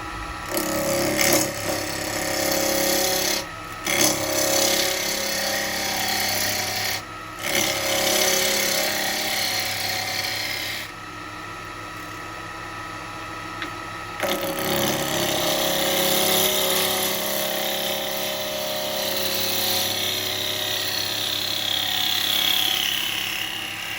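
A wood lathe spinning as a yew bowl is turned, giving a steady whirring hum with bursts of scraping and cutting noise as the tool meets the wood, interrupted by short pauses.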